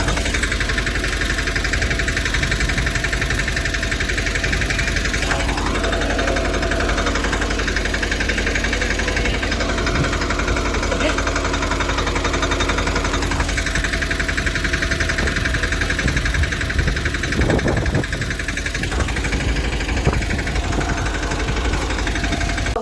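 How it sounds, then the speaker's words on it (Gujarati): A tractor engine running on a farm field, a steady mid-pitched rumble with a knocking throb, loud and close, continuous throughout with no voices. "અમારા ટ્રેક્ટરથી ઘોડો આંકતા હતા મિત્રો"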